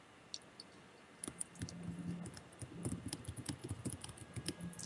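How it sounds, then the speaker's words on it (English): Rapid, uneven clicking of keys on a computer keyboard, close by and moderately loud, starting after a quiet first second and continuing in irregular bursts. "See, now you're typing."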